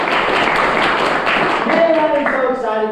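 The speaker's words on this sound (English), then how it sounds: "So let me give you guys a round of applause." A crowd claps steadily in a dense, continuous wash of applause, with a voice starting to speak near the end.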